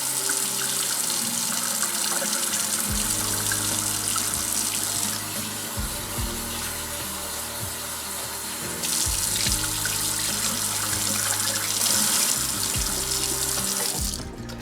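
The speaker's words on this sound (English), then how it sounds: "So I am going to go ahead and drain them and rinse them with some cold water." Cold water from a kitchen tap runs steadily over drained, simmered apricots for a long stretch, a continuous splashing hiss that shifts in tone as the stream hits the fruit and the sink.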